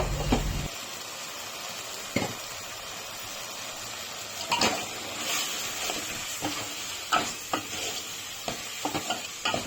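Chilli powder frying in oil in a pan for chicken dry gives a steady, soft sizzle, with occasional scrapes and clinks of a spoon stirring throughout.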